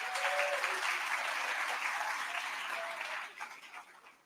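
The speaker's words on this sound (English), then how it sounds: "We could give her a round of applause." An audience at a 5th grade promotion ceremony breaks into sustained, even applause that sounds slightly distant. The clapping fades out over the last second.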